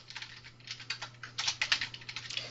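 Close-up typing on a computer keyboard, a quick irregular run of light key clicks, quiet and alone.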